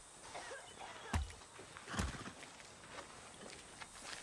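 Horse hooves clip-clopping while riding in Far Cry 6, a few sharp, irregular thuds over a quiet outdoor background, moderately close.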